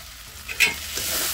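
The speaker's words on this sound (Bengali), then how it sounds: "এবার আলু ভাজাগুলো দিয়ে দেবে, দিয়ে আলুটার সাথে মশলাটার সঙ্গে ভালো করে একটু কষিয়ে নেবে।" Fried potato pieces stir-fried with spice paste in oil, giving a close, loud sizzle with a sharp scraping stir in the middle and a steady frying hiss throughout.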